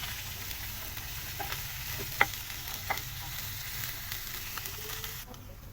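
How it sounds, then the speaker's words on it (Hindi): Sliced onions and green chillies fry and sizzle quietly in a pan, with a steady low crackle and a few soft scrapes and taps of a spoon stirring them. "प्याज को और सब्ज़ मिर्चों को बस अब इसको अच्छे तरीके से दोनों चीज़ों को हमने मिक्स कर लेना है और फ्राई कर लेना है"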